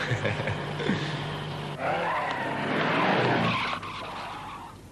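A cartoon car skids in a long screeching tire squeal over a revving engine, loud and close, with music underneath.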